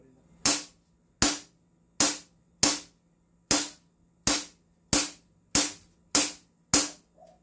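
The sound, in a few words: airsoft gun shots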